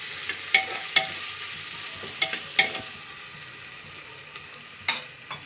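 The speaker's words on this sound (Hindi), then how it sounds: "उसके बाद अदरक लहसुन पेस्ट, इसको अच्छी तरह से घुमा के ब्राउन कलर होने देना है।" Ginger garlic paste stirred and fried in a pan for chicken biryani, with soft sizzling under a series of sharp spoon scrapes and taps against the pan, close and fairly quiet, no talking.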